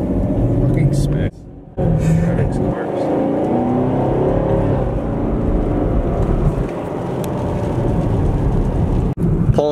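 A 2019 Chevrolet Camaro sports car drives with a steady engine rumble heard from inside the car. It runs continuously with brief dropouts, under frequent chatter from people riding along.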